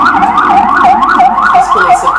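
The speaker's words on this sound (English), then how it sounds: "Look, the sirens are even coming." Emergency vehicle siren wailing in a city street during an anime convention, a loud close siren sweeping up and down in a steady repeating cycle over traffic rumble.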